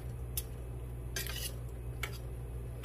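A spoon stirs candied sweet potatoes in syrup in a stovetop pot, giving a few sharp metallic clinks against the pot spaced irregularly over a quiet kitchen hum, with no talking.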